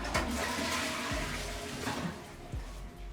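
Toilet flushing in a condo bathroom in Bangkok, Thailand: a steady rushing wash of water lasting throughout, fairly close and loud, with no talking.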